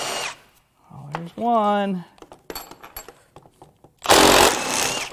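Power tool spinning out bolts during a teardown of a Honda Accord J35 V6 engine that shut off, with a rising whine in short bursts and a loud harsh burst near the end, between exclamations from a nearby speaker.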